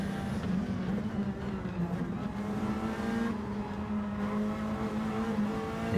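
Race cars lapping a track in a championship race, engines droning steadily close by with a sustained, slightly wavering pitch, running without any talk over them.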